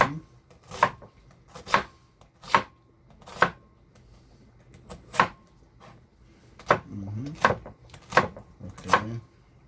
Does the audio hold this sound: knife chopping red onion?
yes